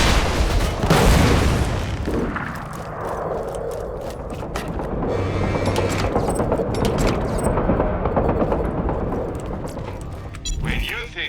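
Bandit launcher rockets exploding during Borderlands 2 combat in the Tundra Express, heavy booms and rumbling blasts with gunfire-like bursts, loud and dense throughout, under constant game noise and a talking voice.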